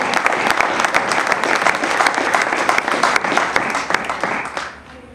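Church congregation applauding during a worship service, loud sustained clapping from many hands with sharp individual claps standing out, then fading quickly at the end.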